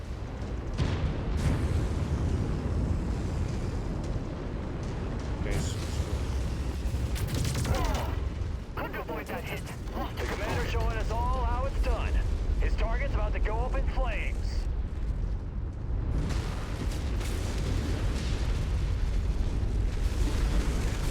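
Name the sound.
missile explosions in MechWarrior 5 Mercenaries video game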